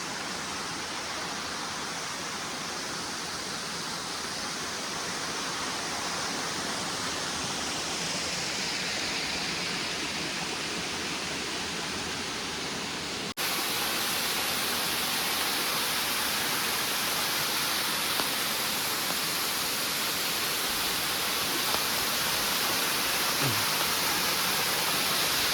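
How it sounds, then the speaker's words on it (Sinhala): A waterfall at Elpitiya Pitigala in Sri Lanka roars as a dense, continuous broadband rush, loud and steady throughout with no voices, the level stepping up slightly partway through. "මේ තමයි ඇල්පිටිය පිටිගල තියෙන අඬා හැලෙන ඇල්ල."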